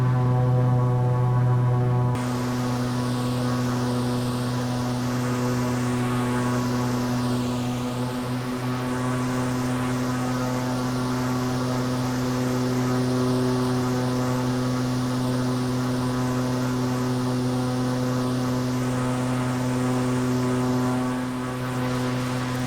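A propeller airplane engine in a virtual reality flight game hums in a steady, even buzz for a long stretch near the Grand Canyon, loud and constant with no voices.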